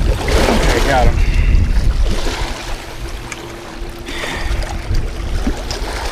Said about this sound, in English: trying to land this fish with these big wakes crashing up on the wet rocks